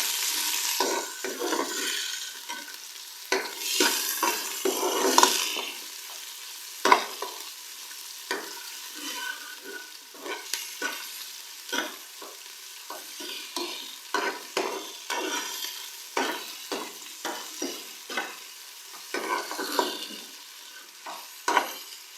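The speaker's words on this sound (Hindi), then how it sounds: "प्याज को हम लोग लाइट ब्राउन कलर आने तक फ्राई करेंगे" Onions fry in a pan for mutton yakhni soup, a spatula scraping and stirring in repeated strokes over a soft sizzle, close and fairly loud for over twenty seconds, with no talking.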